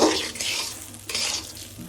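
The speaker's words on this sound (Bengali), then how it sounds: "চালটা ভালো করে ভাজতে হবে" Rice with turmeric and salt frying in a pan for broken-rice khichuri, a steady sizzle with scraping stir strokes sweeping through it, close and fairly loud throughout with no voices.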